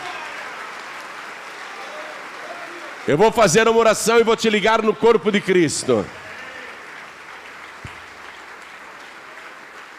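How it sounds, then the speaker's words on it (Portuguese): Church congregation applause runs as a steady bed throughout while a preacher's amplified voice speaks over it for a few seconds in the middle. "Vamos aplaudir mais, igreja."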